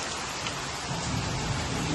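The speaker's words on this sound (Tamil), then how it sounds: "இன்னைக்கு ராதாநல்லூர் மழையும் எடுத்து போட்டுட்டேன்" Steady rain falls in Radhanallur village, a dense, even hiss of drops on surfaces that swells slightly louder in the second half, with no voices over it.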